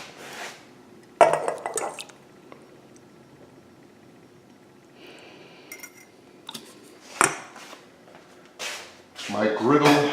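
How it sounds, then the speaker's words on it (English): Gluten-free pancake batter being mixed with butter and milk in a bowl, scattered clinks and scraping strokes of a utensil against the dish, with a person talking in between. "just add and mix the butter and the milk together."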